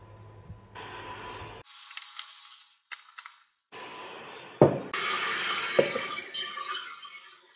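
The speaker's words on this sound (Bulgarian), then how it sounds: "Налях студена вода" Cold tap water runs into a cooking pot for lamb, with intermittent bursts and clanks before a loud, steady close-up pour takes over in the second half.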